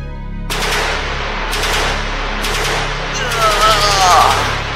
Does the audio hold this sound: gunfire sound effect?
yes